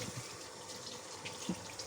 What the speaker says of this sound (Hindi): सब ये इसमें पानी डाल देंगे